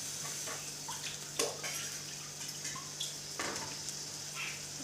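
A bowl of water poured into a cooking pot on the stove, a steady wash of splashing and sizzling with a few light clinks of the bowl against the pot, heard close over a low background hum.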